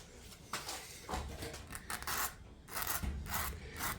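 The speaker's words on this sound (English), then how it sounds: "I'm actually going to put on a little bevel on these myself with the file" Hand file rasping a bevel onto top edges of Datsun L28 engine parts during a bottom-end rebuild, several separate strokes in an uneven rhythm, each a short scraping burst, close and fairly quiet.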